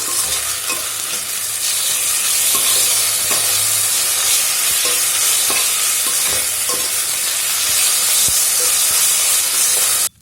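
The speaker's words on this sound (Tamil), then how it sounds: "இது நல்லா பச்சை வாசம் போக நல்லா வதக்கிக்கலாம்." Ginger garlic paste sautéing in a pan for vegetable biryani, a loud, steady sizzle and hiss with occasional stirring clicks, no talking.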